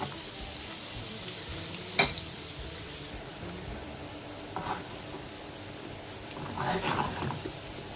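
Faint, steady sizzling of chopped ginger frying in ghee, with a sharp click and a few soft clatters of stirring, quiet throughout.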